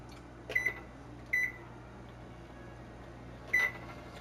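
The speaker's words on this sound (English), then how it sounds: "10-minute timer is on." A kitchen timer gives three short electronic beeps, two close together and a third after a pause, against a quiet room hum.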